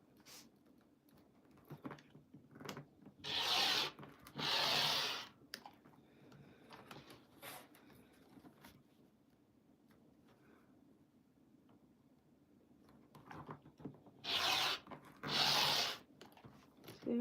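Quilting fabric being cut into strips for a baby quilt's binding, with two paired bursts of crisp slicing around the start and again near the end, separated by quieter rustling and small handling taps.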